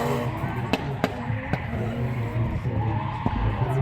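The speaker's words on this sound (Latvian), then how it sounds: "drifts notiek" A car drifts at a motorsport event in Jelgava, with a continuous roar of engine and skidding tires at some distance, broken by a few sharp clicks and knocks.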